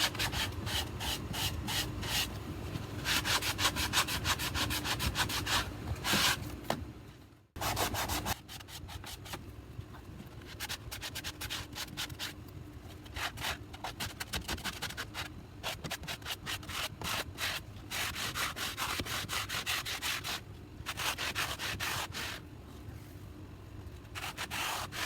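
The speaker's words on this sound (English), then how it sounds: "I really want to sand this part off as much as I can because it's a big smudge." Steady rubbing and scraping of sandpaper worked over a wooden cabinet door, heard up close and continuous with a brief pause partway through, no talking.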